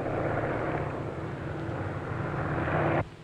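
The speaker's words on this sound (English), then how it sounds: "Calling plane number one, Elmer Lane." An airplane engine drones steadily overhead, a loud, rough, continuous roar that holds for about three seconds and then cuts off abruptly.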